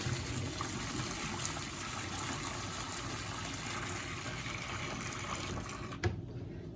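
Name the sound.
pouring hot water out of noodle pot in sink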